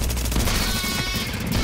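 Rapid weapon fire in the video game The Division during a gameplay fight, a dense, steady stream of shots that never lets up.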